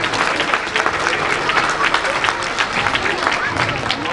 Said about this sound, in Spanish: Un aplauso de La Cañada para vosotros.